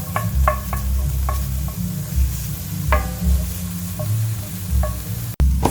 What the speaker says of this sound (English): add it in with your onions. You're just going to sweat them off and get them going.